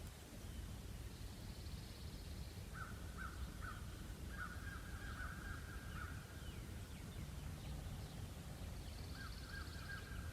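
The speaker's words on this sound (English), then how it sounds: "Just listen to the birds." Faint bird calls, a few short repeated notes and a higher chirp, sound from a distance over a steady outdoor hiss.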